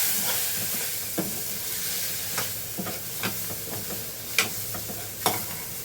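Soaked peanuts sizzle in a hot pan with a constant frying hiss, while a spoon scrapes and stirs in irregular sharp strokes every second or so.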